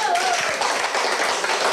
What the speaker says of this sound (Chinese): 如果是这样的话，大家拍手那个